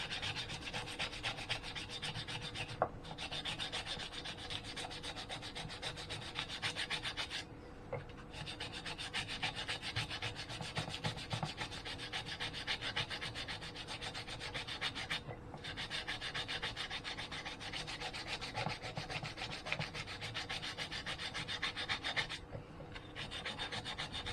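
Metal sanded smooth in the engine bay of a Mitsubishi Evo X, a steady close abrasive rubbing that runs continuously with brief pauses every few seconds, loud and alone without voices.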